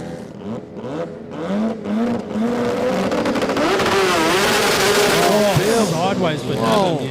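A sports compact drag car launches during a qualifying round at the Garrett Brisbane Jamboree 2024 in Australia, its loud engine wailing and rising through the run while commentators talk over it.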